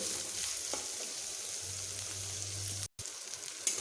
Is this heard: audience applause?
no